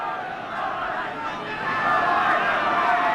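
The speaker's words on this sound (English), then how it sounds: "this crowd has been noisy all afternoon" A noisy rugby league crowd at Doncaster keeps up a dense, continuous roar and babble that swells louder partway through, with no single voice standing out.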